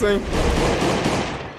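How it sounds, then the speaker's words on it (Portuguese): Rapid bursts of gunfire from the survival video game Last Day On Earth, dense and continuous for under two seconds, with a voice briefly heard over the shooting. "Vou começar a dar uns tiros aqui."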